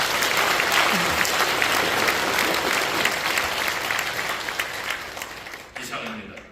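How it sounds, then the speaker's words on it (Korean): A church audience applauds warmly at a Korean Christian council president's inauguration service, welcoming the pastors with dense, sustained clapping that gradually fades toward the end. "환영의 박수를 한번 해주시기"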